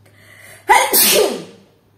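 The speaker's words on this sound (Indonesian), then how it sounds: "Bersin gue." A single loud, close sneeze with a short sharp intake followed by a breathy burst that trails off over about a second, against near silence.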